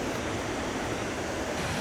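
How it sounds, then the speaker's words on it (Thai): Haew Suwat waterfall in Khao Yai in July, running with lots of water: a steady, loud, broadband roar of falling water, unbroken and close throughout, with no voices. "น้ำตกเหวสุวรรณ ช่วงนี้เป็นเดือนกรกฎาคมนะครับ น้ำเยอะมากเลย"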